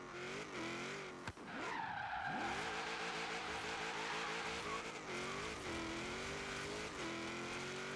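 A Ford RS200 in Forza Horizon 3 revs hard and accelerates through its gears, its engine note rising and falling across shifts, with tire squeal and skidding along the way.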